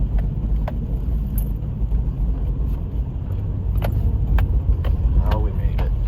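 A truck pushes through mud on a soggy driveway, its engine holding a steady loud drone with the throttle kept open, while clicks and a voice come through over the rumble.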